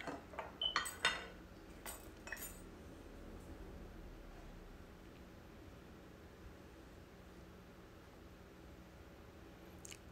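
Cutlery clinks against a bowl a handful of times at the start while ingredients for a Spanish potato omelet are mixed, then fades into faint quiet room noise.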